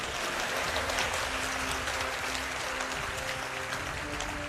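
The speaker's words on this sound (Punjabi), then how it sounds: "ਤਾੜੀਆਂ ਮਾਰ ਦੋ" Applause from a crowd at a Punjabi political speech, a steady wash of clapping that stays fairly loud and even throughout, with no voice over it.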